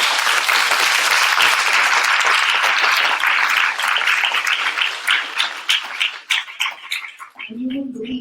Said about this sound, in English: A rousing applause for all of our panelists.